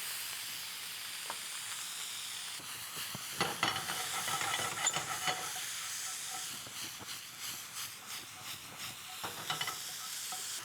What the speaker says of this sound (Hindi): So we've sauteed the potatoes and the tomatoes together